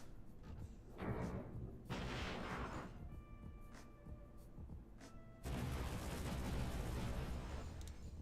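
Torpedo attack sounds in a naval video game with ironclad and dreadnought ships, rumbling booms and whooshing bursts in several loud waves, separated by quieter stretches with ringing tones.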